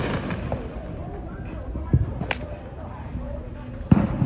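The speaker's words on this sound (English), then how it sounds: "Just randomly doing their firecrackers." A few sharp firecracker pops crack out at irregular moments from a neighbouring yard, sounding moderately distant against a quiet outdoor hum.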